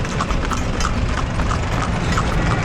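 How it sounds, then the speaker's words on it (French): Horse hooves clip-clop steadily on an Egyptian road amid traffic, a close, even rhythm of sharp strikes over a constant roar of vehicles. "Nous prenons les ronds-points à cheval."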